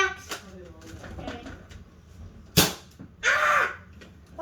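Nerf foam dart gun fired at a person at close range: one sharp pop lands mid-clip, followed by a brief whooshing burst, with people talking and calling out around it.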